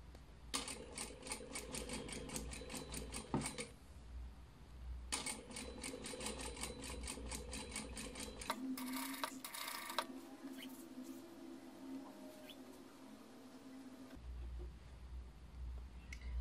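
A sewing machine stitches a hem with an American seam in rapid, even bursts, pausing between runs, with quiet handling sounds in the gaps and the motor close by.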